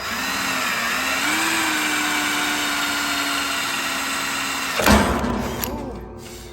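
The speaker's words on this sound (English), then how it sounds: "we can drill some holes through here" A power drill with a 1/4-inch bit bores holes through metal on a pulling truck build, a steady whining drone that runs for several seconds before a sharp burst as it breaks through, then winds down.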